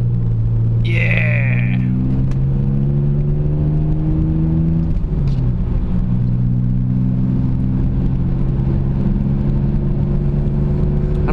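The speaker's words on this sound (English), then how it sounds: "If you guys can hear the car or not," An older car with a single resonator delete and muffler delete rumbles close by. Its deep exhaust drone holds steady throughout, with a brief shift in pitch midway and a faint voice early on.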